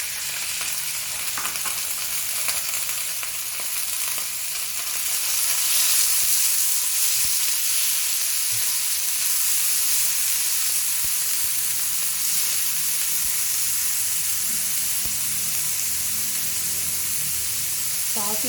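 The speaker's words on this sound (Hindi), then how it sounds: "Tablespoon cooking oil, almost 200 gram chicken छोटी छोटी क्यूब फॉर्म में काट लिया।" About 200 grams of small chicken cubes sizzle in hot cooking oil in a pan, a steady close frying hiss with occasional stirring scrapes and no talk.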